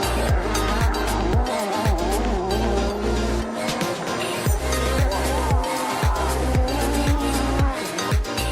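Race cars launch off the line on a green light, engines roaring loudly and steadily with repeated revving sweeps and a constant low drone throughout.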